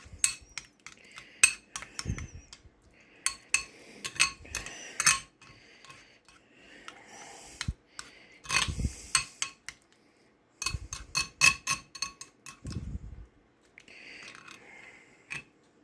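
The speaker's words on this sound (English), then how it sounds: "That will get thoroughly stirred up together." A metal utensil clinks and scrapes in a bowl while stirring cottage cheese mixed with Italian seasoning, coming in irregular bursts of close, sharp taps separated by short pauses.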